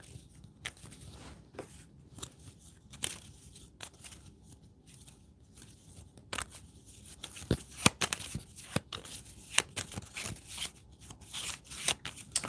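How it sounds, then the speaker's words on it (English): A deck of game cards for a tabletop war campaign being shuffled by hand, with repeated riffles and sharp snapping bursts of card flutter close up, quiet between shuffles and no talk. "And let me shuffle these 17 cards real quick."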